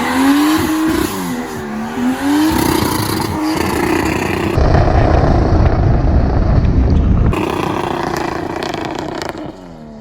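A Mercedes-Benz with an open differential attempts a burnout, its engine revving hard and loud with squealing, spinning tires in a continuous roar that rises and falls over several seconds.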